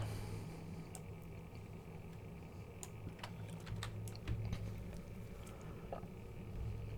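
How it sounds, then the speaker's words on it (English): Computer keyboard typed on during a livestream, scattered faint key clicks in irregular bursts over quiet room hum. "Pound the keyboard louder."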